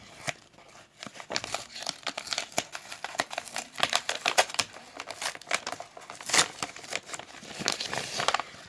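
Mail package being opened by hand, with dense crinkling and tearing of paper and plastic wrapping in quick irregular bursts, close and moderately loud, with no talking.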